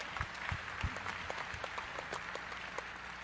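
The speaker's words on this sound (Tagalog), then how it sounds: "Palakpakan po natin ang Panginoon." A congregation applauding during an El Shaddai Catholic Mass, with soft, steady, fairly distant clapping and a few louder thumps near the start.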